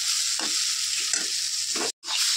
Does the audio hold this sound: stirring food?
yes